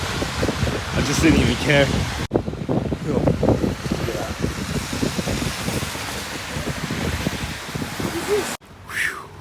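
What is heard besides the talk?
heavy wind outdoors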